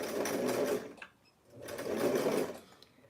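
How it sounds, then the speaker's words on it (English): A sewing machine back stitches over a fold of blouse fabric in two steady, close whirring bursts with a short pause between them. "I'm going to back stitch here, and I'm going to be careful going over this little fold of fabric."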